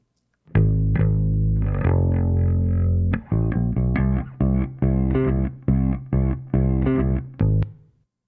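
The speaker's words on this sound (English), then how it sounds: "And then with the reverb." Reverb-drenched electric bass in a pop mix, a long sustained note followed by a run of punchy repeated notes with smeared tails, loud and up front, no voices.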